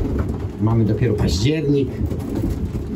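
Pigeons coo in low, rolling bursts close to the microphone while someone speaks Polish over them.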